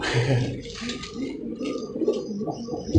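Pigeons or doves from a breeding loft coo in low, repeated murmurs through the clip, steady and moderately close, with a soft background hum and some faint chirps.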